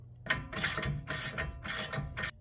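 Ratchet wrench clicking in bursts while torquing a control arm bolt on a 2011-2019 Ford Explorer, four close, loud rapid ratcheting runs separated by short pauses, no talk.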